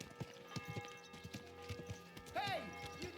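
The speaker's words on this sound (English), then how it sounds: "Easy, good horse." In the video game Kingdom Come: Deliverance II, horse hooves clop steadily at a walking pace nearby while voices talk over them; a short horse whinny rises near the end.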